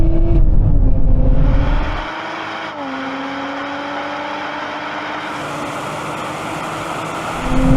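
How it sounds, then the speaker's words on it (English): A Nissan Z, Porsche GT4 RS, Toyota Supra and Lotus Emira drag racing, heard as a loud engine roar rising steadily in pitch through gear changes, then settling into a sustained high drone that swells again at the end. "Come on, keep on accelerating, Watson."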